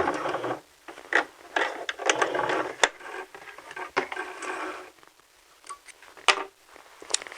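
A sewing machine runs through a backstitch in a sewing lesson, giving short mechanical bursts of rapid stitching that stop and restart several times, fairly close and clear with no talk over it.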